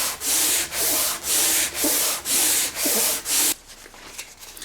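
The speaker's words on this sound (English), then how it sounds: "you'll have to come in with your sandpaper like this" Sandpaper rubs back and forth along a wooden guitar neck, seven steady, loud, close rasping strokes in even rhythm before the scraping stops and only quiet handling remains.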